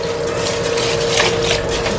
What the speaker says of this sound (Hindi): इसको चावल को धोना है, थोड़ा धो के फिर उसके बाद बॉयल करना शुरू कर देंगे